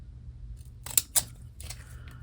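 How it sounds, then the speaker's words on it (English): Decorative-edge craft scissors snip paper for a junk journal, a few close crisp cuts with two sharp snips standing out against a quiet low hum. "I'm going to use my fancy scissors"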